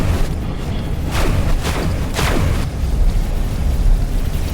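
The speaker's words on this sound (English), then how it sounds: "Why are you shooting at me?" Weapon fire hitting a ship in the space game X4 Foundations lands as a few muffled booming impacts over a dense, constant low rumble.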